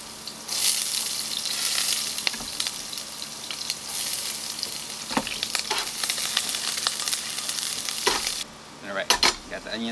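Onions frying in a pan outdoors hiss with a loud, steady sizzle, broken by occasional scrapes and clinks of stirring, before the sizzle drops out near the end.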